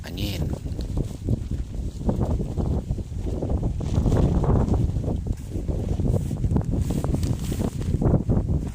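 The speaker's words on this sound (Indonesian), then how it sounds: "anginnya sangat deras, jadi payungnya kita lepas dulu" Strong wind buffeting the microphone outdoors on a riverbank while fishing for baung catfish, a steady loud roaring rumble with gusty swells and rustling throughout.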